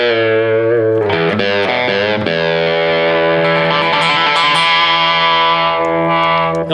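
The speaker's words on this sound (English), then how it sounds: "If I pick down here real close to the bridge, I get this really cool tone." An electric guitar is picked right up near the bridge in an out-of-phase pickup setting, giving a bright, nasal distorted tone: a few quick struck notes, then a long sustained chord ringing loudly and close with no talking.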